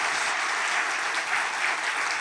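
A church congregation applauds during a Sunday service. The clapping is dense and even, at a steady moderate level, and no voices are heard over it.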